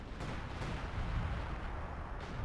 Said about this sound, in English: There's a lot of indirect fire coming in the general area